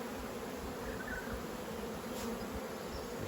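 A hive of honeybees gives a steady, dense buzz close up as the queen is released during spring brood box management, a continuous drone that never pauses.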